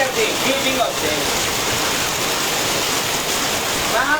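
Storm rain driven by strong wind makes a steady, full hiss and wash that never lets up, with a few faint higher sounds rising briefly above the noise.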